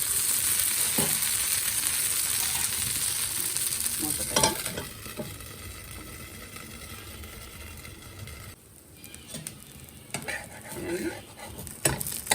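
Sponge dosa sizzles steadily in ghee on a hot pan, a continuous frying hiss with a few scraping and tapping clicks from a utensil, fairly close and without talk.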